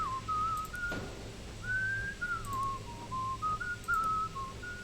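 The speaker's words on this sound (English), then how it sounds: "Don't know why I would ever want to stop whistling." A game character whistles a wandering, tuneful melody in Shadows Over Loathing, steady and clear over a faint low background hum with no talking.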